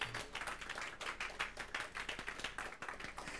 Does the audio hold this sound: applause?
yes